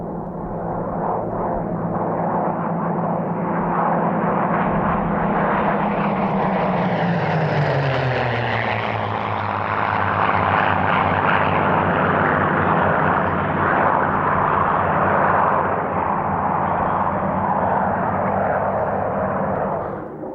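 Supermarine Spitfire Mk 9 and Griffon-engined Mk 14 fighters of the Fighter Collection fly a display at the 1996 Duxford airshow, their piston-engine roar loud and continuous, with a pitch sweep as one passes overhead and the others droning on.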